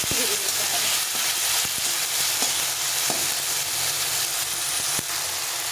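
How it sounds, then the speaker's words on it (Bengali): Tomato with salt sautéing in a pan makes a loud, continuous sizzle, with faint scattered clicks of stirring throughout. "টমেটোটা ভালো করে কষে নিয়েছি"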